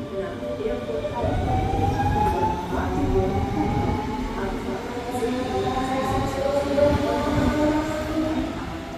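An S1 commuter train moves through a station in Magdeburg, Germany, with a steady rumble of wheels and a high, drawn-out squeal at moderate distance.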